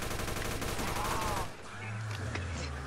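Rapid gunfire rattles in the Roblox zombie game Project Lazarus, a dense string of fast shots for about a second and a half, then it cuts to a lower hum with a few faint pops.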